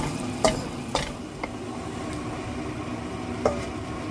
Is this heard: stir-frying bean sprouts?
yes